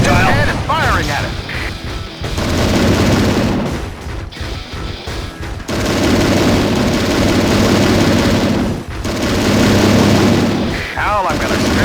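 A walking tank fires in the Nintendo DS game Transformers: Decepticons, loud repeated booms and rapid gunfire bursts over a thick battle din, with brief lulls and electronic game effects.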